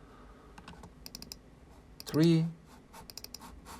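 Soft, irregular clicks of typing on a Mac keyboard, close and quiet, with a short burst of speech in the middle.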